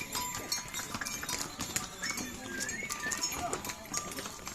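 Horse hooves clip-clop on the Yamunotri pilgrimage trail in the Himalayas, with steady uneven steps that sound moderately near, joined by bells and faint background voices.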